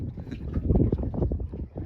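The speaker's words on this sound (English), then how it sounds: "It's starting to get a little windy out here." Gusty wind buffets the microphone outdoors near water, a steady low rumble with rising and falling swells and no talking.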